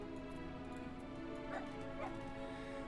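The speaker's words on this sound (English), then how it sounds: "I know that I can get on the Shiba, and it can bark" A Shiba dog mount in Final Fantasy XIV gives two short, light barks over steady game music, faint and set back in the mix.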